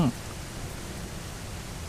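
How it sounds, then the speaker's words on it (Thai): Rain falls in the dinosaur survival game The Isle as a steady, even wash of broadband patter. It stays constant and moderately loud from start to end, with a brief thump at the very beginning. "น่าจะฝนตกแล้ว"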